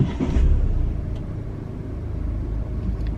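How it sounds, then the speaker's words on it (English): A car engine rumbles to life and settles into a steady low idle close by, with no voices. "My car just turned itself back on."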